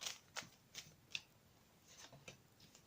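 Quiet, brisk card shuffling: several short riffles and soft slaps spaced through the clip, with no voices.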